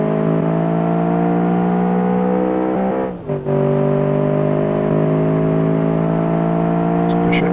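A sports car in BeamNG revs hard and accelerates down a straight, its engine note climbing steadily in pitch, dipping briefly at a gear change around the midpoint, then climbing again, loud and continuous with no talk.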